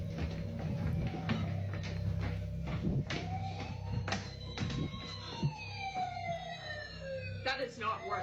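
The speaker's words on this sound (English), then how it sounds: "Somehow, a toy fire truck goes off right when the family listens to Dad's message." A toy fire truck siren sounds indoors, its electronic wail rising and sweeping repeatedly over a steady hum, with people talking faintly around it.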